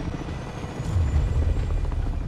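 Helicopter in the video game Avatar: Frontiers of Pandora, a steady low rotor drone and rumble holding at moderate loudness through the whole moment, swelling slightly midway, with no talk over it.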